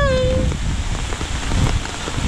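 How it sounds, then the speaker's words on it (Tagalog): Heavy rain pours down in a dense, steady roar, close and loud, after a brief tone at the start. "Yan, lakas ng ulan."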